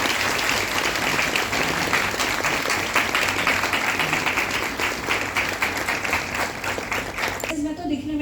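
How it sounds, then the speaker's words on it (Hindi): An audience at a weight loss workshop gives sustained, loud applause for two people, dense clapping that fills the room for several seconds before stopping abruptly near the end. "जोरदार तालियां हो जाए मितेश भाई और किरण चटर्जी के लिए।"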